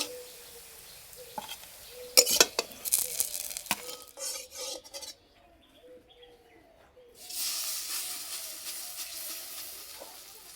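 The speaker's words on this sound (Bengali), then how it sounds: "সব বড়াগুলো এইভাবেই ভেজে নেব" Spring onion fritters (bora) frying in oil, with a bright hissing sizzle that swells loudly at times, interrupted by scraping and clattering from a utensil, then settling into a steady close crackle near the end.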